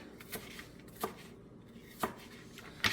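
A knife chops through an onion on a cutting board in a home kitchen, with four sharp, evenly spaced strikes about a second apart, close and moderately loud against quiet room noise.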